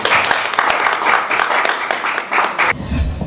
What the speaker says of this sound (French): on peut l'applaudir franchement